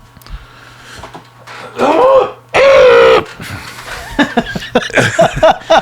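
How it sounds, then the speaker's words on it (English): A man clears his throat loudly and close to the mic, two rough, strained bursts surrounded by brief vocal noises and a chuckle-like sound. "Had to clear my throat"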